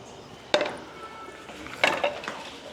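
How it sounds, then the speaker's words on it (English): Spoon stirring rice kheer in a pot, giving two clear scraping clinks against the metal with a few softer knocks between, close and fairly quiet, with no talking. "So just to mix it well, to stir it properly."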